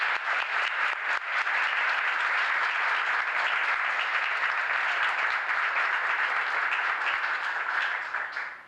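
Sustained applause from an audience at a 1982 Mexican Independence Day celebration in San Jose, dense clapping rising sharply after a brief start and holding loud and steady for several seconds before tapering.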